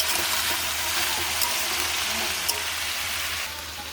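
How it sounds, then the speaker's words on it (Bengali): Papads frying in hot oil give off a steady, moderately quiet crackling sizzle that keeps going with a few sharper pops and eases slightly toward the end. "এই দেখো পাঁপড়গুলো সব ভেজেছি, এখনও অনেকটা আছে"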